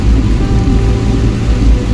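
Heavy monsoon rain hammers a car on a drive near Panvel, a loud, dense, constant roar of water on the roof and windshield with a low rumble underneath.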